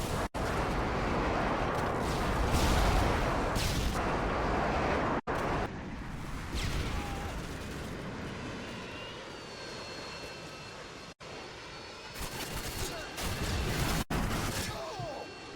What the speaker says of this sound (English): Enemy Harriers incoming.